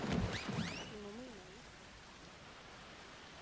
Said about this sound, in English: Is it raining in the game? I hear rain, it sounds like, in the game.